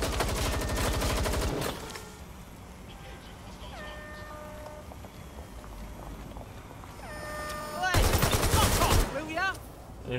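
Watch Dogs: Legion gameplay gunfire, with heavy rapid bursts at the start and again near the end and quieter game effects in between.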